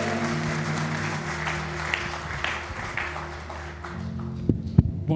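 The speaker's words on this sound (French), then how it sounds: "Est-ce qu'on peut lui donner une bonne main d'applaudissement?" Applause from a church congregation during a service, a broad steady wash of clapping over a low hum, thinning near the end as a few sharper knocks stand out.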